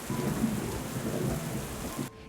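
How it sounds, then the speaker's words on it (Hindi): Heavy rain pours steadily with deep rumbling thunder rolling underneath, fairly close, before the sound cuts off abruptly. "सुबह होने से पहले बिजली कड़कने लगी और अचानक मूसलाधार बारिश शुरू हो गई।"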